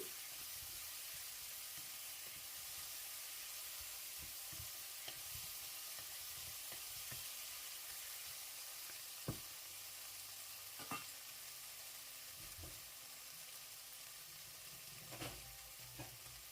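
Fish curry in a pan, Sri Lankan style, stirred lightly after rock salt goes in: a faint, steady hiss and simmer with a few soft scraping strokes scattered throughout, quiet and continuous, no voices.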